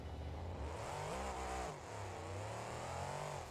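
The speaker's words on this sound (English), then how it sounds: "You can see it's much more difficult to build up revs" A supercharged monster truck engine from the BeamNG Drive video game, Monster Jam style, revs loudly and close in rising and falling sweeps, a dense roaring growl that dips briefly and climbs again, with no talking.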